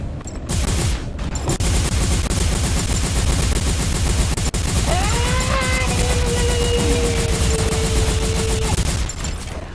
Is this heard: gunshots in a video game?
yes